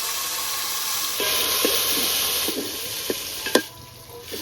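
Thick tomato, ginger and cumin paste sizzles steadily in a pot, with a few sharp scraping clicks as it is stirred and a hissing burst near the end.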